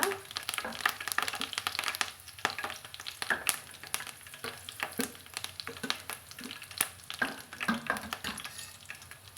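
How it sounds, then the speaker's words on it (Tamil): Curry leaves crackle and sizzle in hot oil after mustard seeds have popped, for a tomato pickle; dense, irregular spattering pops continue throughout at close range. "நமக்கு கருவேப்பிள்ளைகள் நல்லா பொரியட்டுங்க"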